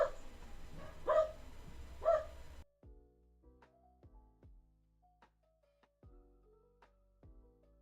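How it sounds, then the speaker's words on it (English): A neighbor's dog barks three times in loud, sharp bursts, then keeps up fainter, more distant yips and barks at irregular intervals. "my neighbor's dog"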